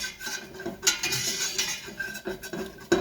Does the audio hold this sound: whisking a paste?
yes